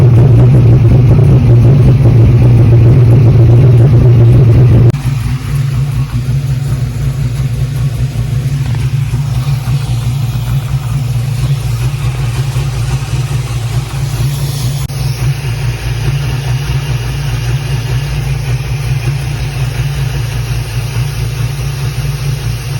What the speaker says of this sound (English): It's running good idle at 50, 55, but I think it's dropping when I hit the gas.